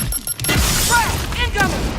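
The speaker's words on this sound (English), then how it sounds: "Watch out! Grenade!" A grenade blast in a football video game, a loud boom with crackling bursts, heard amid shouting voices.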